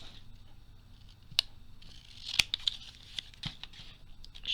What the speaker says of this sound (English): I'm going to cut it down some